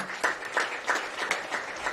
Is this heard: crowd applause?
yes